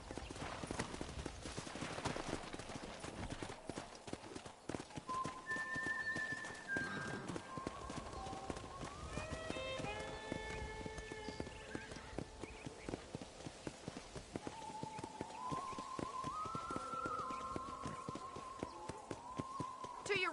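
Steady clip-clop of horse hooves trotting along in a video game, with a brief whinny amid chatter and background music.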